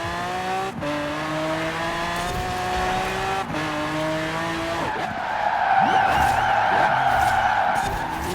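Bugatti Veyron in Forza Horizon 4 racing on dirt, engine droning and shifting up before a long, loud tire squeal as the car drifts sideways, close and without any voices.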